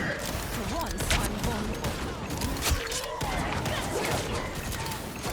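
Rapid gunfire in Marvel Rivals, fired at a wall, comes as dense continuous bursts with mechanical clatter and brief pauses, up close and loud, with a voice talking over it.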